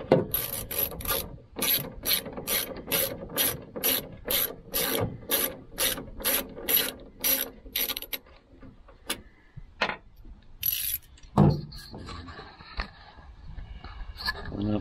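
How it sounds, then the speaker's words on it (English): A tool ratchets out T15 screws from a 2018 Chevrolet Colorado tail light, a close, rapid series of regular clicking bursts that stops, followed by scattered handling noises and a few knocks. "all you can do is remove a couple T15 screws."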